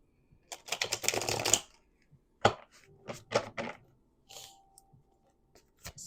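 Tarot cards are shuffled by hand, with a dense flurry of crisp papery clicks followed by several separate sharp snaps and flicks spaced apart, close to the listener in an otherwise quiet room.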